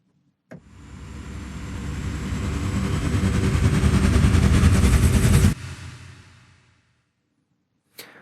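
A UVI Meteor riser swells steadily in loudness for about five seconds, cuts off abruptly into a decaying tail, and a short sharp impact hit lands near the end.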